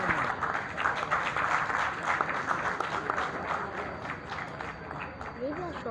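A theatre audience at the Arts Council in Karachi applauds a writer-director-actor coming on stage, a steady, moderately quiet wash of clapping that carries on for several seconds, with voices faintly mixed in toward the end.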